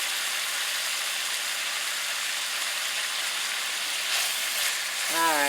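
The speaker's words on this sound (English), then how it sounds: "Let them saute." Vegetables for pepper steak sautéing in a pan over reduced heat, giving a steady, even sizzle that holds at one level throughout, with a brief clatter of movement near the end.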